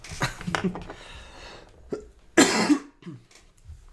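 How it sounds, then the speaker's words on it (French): A short, sharp cough stands out from quieter breathy sounds and faint background noise. "désolé si je bousille des oreilles avec ma toux"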